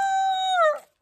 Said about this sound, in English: These are our dogs here.